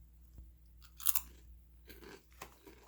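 Crunching on a wavy, ridged, spicy-flavored International Lay's potato chip: a few sharp, close bites and chews in quick succession with no talking.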